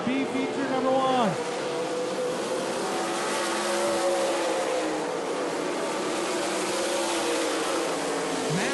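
Dirt track race cars roar around an oval during a B feature, engines droning loudly and continuously with a pitch sweep as cars pass, under steady race commentary.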